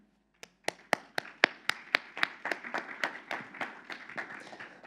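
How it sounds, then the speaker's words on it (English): A round of applause after an academic presentation, starting with a few sharp individual claps that quickly build into steady clapping from a small audience. "give him a round of applause"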